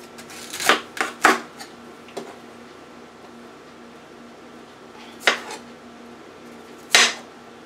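A knife cuts a head of broccoli into pieces on a board, giving a few sharp thunks in a quick cluster near the start and two more isolated chops later, with quiet pauses between.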